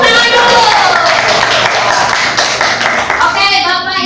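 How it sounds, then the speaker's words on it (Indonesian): Audience of teachers clapping hands together in a classroom or hall, a close, loud burst of rapid clapping with voices and a tonal sound overlapping near the end. "Tepuk tangan dulu."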